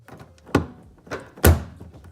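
A Nissan 370Z interior side panel is pried loose with a few sharp plastic snaps and thunks, the last one loudest, close by.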